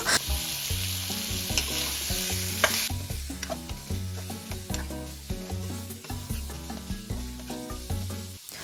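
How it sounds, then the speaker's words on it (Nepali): Leftover chicken meat and bones fry and get stirred in a pan for chicken momo soup. A loud, dense sizzle fills the first few seconds, then continues with scraping stirs under rhythmic background music. "अब चाहिँ किमा बनाइसकेपछि बाँकी रहेको मासु र हड्डी राख्न जाँदैछु। यसरी हामीले यो मासुलाई चाहिँ मजाले भुट्नुपर्छ।"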